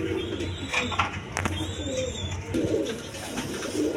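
Racer pigeons, a pair among others nearby, coo in low repeated murmurs over a constant background hum, with a brief sharp knock partway through.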